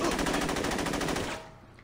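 Rapid automatic AK rifle fire in the Saints Row video game, a loud, dense stream of evenly spaced shots that stops abruptly after about a second and a half, leaving faint background noise.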